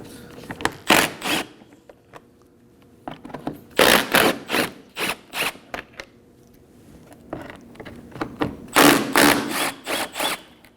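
A socket wrench removes 10mm bolts beneath the front bumper of a Nissan Armada, coming as clusters of quick ratcheting clicks and scraping bursts with short pauses between, close and fairly loud.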